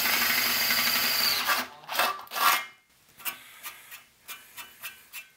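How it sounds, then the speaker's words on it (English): An electric drill whirs loudly at first, then grinds in a few heavy bursts boring a hole for an input jack in a 1930s Globe tube amp chassis, before a series of short, quieter rasping pulses. "drill that out"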